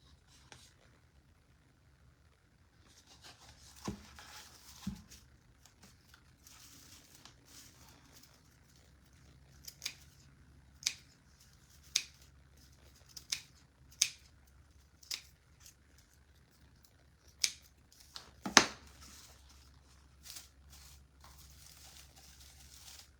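Scissors trimming a wonky scarecrow and sunflower craft kit, a series of crisp single snips spaced a second or two apart over quiet background handling, close but soft.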